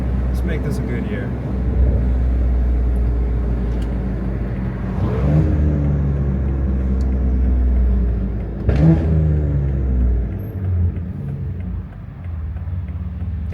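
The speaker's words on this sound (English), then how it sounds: "That downshift into first gear, every once in a while I get a nice little pop." A tuned, catless 600 hp BMW X3M with the S58 engine drones steadily from inside the cabin, with a couple of rising revs and downshifts, while someone talks over it.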